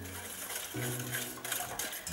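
A utensil stirs milk, egg yolks, sugar, vanilla seeds and cornstarch in a saucepan. Scraping and clinking against the pan run close and continuous, with a louder knock partway through.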